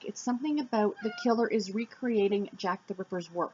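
A pet cat meows close by indoors, its calls mixed in with continuous nearby speech from a person talking throughout.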